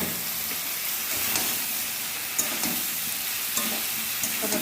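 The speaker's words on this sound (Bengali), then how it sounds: "কষানো মশলার মধ্যে আমি আবার পটল আর আলুগুলোকে ঢেলে দেবো" Pointed gourd and potato pieces tipped into a pan of fried spice paste, with a steady close sizzle and frying hiss, scraping stir sounds and a few soft clinks throughout, no voices.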